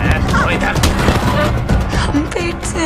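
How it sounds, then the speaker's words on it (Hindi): Gunfire rings out amid a dense, loud action-scene din from the series Mirzapur, with several sharp shots and thuds layered over music and effects. "मुन्ना स्वीटी के पेट में गोलियां दागता है।"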